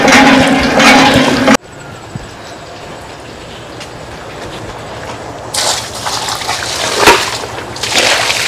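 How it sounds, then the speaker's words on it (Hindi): Water gushes loudly from a hand pump into a bucket at an outdoor spot in a hill-town market after dark. A strong splashing burst stops abruptly, a quieter pause follows, then the gushing rushes back in loud, uneven surges. "एक बाल्टी पानी लेके आते हूँ हैंडपम्प से"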